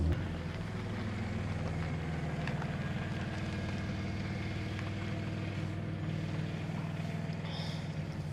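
A Volkswagen Corrado VR6 drives with a steady, loud low engine drone and road rumble throughout, a continuous hum under wind noise with no breaks.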